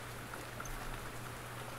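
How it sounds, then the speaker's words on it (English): Soft rain falls slowly in a steady, even patter with a faint low hum beneath, quiet and unbroken throughout. "Rain is slowly falling."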